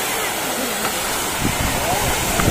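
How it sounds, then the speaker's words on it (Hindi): Large outdoor fountain in Lucknow spraying water into a fine mist, a steady broadband rushing hiss of falling water with a few louder splashes, voices murmuring faintly in the background. "तगड़ा वाला वो फाउंटेन है ना"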